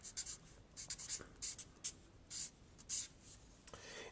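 A pen or marker writing out a sine equation on a board or paper, giving a series of short scratchy strokes in quick bursts with brief pauses, close and fairly quiet, with no talking.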